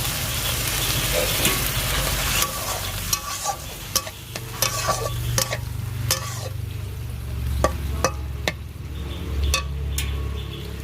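Bottle gourd curry sizzles and fries steadily in a pan while a utensil stirs and clinks against the metal, with no talk.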